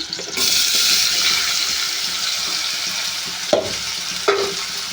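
Chopped onions hit hot oil in a pan for a mango chicken curry, setting off a loud, bright sizzle that settles into steady frying with a couple of sharp stirring clanks.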